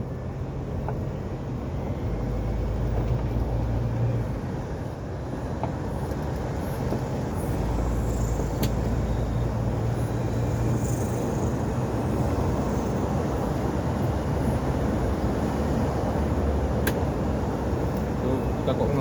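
A car speeds down a mountain road from Kuyun toward Takengon in Central Aceh, its loud, steady engine and road rumble filling the whole stretch with little change, with voices now and then over the drone.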